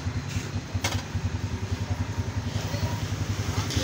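A motorbike engine idles and pulls away with riders aboard, a steady low throbbing pulse running close and loud throughout, with a couple of brief clatters over it.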